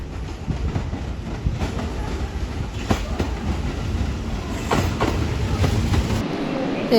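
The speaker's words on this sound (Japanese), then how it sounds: "奈良方面からは特急青荷吉が奈良方面からやってきました" A Kintetsu Aoniyoshi limited express train arrives from the Nara direction at Yamato-Saidaiji station. It gives a steady, loud rumble with rhythmic clickety-clack of wheels over rail joints, running continuously throughout.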